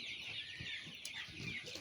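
Faint, distant clucking of chickens in a poultry farm where many birds are dying daily, over a steady high-pitched background hiss, with scattered soft calls throughout.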